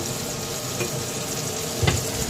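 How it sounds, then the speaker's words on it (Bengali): Eggplant and egg fry together in a pan with a steady, moderate sizzle and the odd soft clink of a utensil, with no talking. "এখন ওই যে বেগুন ভাজি করব আর ডিম ভাজি করব"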